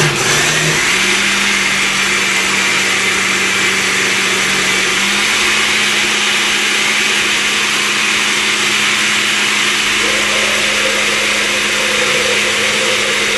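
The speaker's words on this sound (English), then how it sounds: "so we let it blend for a little while" A blender running on medium, making apple butter, holds a loud continuous motor whine with a steady hum, its pitch stepping up slightly partway through and again later as it keeps churning.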